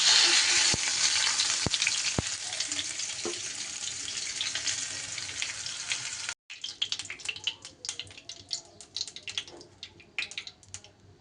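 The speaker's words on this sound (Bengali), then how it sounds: "ঝিঙেগুলোও কিন্তু বেশ সুন্দর করে আমার এপিট ওপিট করে ভাজা হয়ে গেছে" Sliced ridge gourd fries in hot oil with a steady, bright sizzle for about six seconds, then drops quieter as crackling and spattering continue with scattered pops and light utensil clinks. No one speaks.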